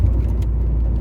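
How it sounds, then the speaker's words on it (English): A 2.0-litre 8-valve Mk2 Golf GTI engine hums steadily while driving, a low, even drone with road noise and no voices. "really good 8 valve engine in this car"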